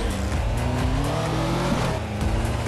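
A race car in the mobile game Nitro Nation launches off the line, its engine revving hard and climbing in pitch with a brief tire squeal, loud and steady throughout.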